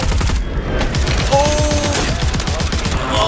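Sustained automatic gunfire in Warzone rattles in a fast, steady stream of close, loud shots, with a voice speaking over the barrage.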